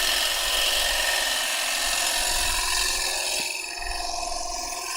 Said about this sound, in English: nice and steady cuts around that corner. Letting the tool do all the work.